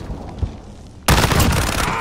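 Gunfire in Call of Duty breaks out halfway through as a loud, dense burst of rapid automatic shots, following a quieter stretch with a few isolated thumps.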